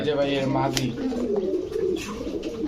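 Pigeons coo at a pigeon market where racers, giant runts and Budapest breeds are sold, a low continuous throaty murmur blending with a voice talking close by.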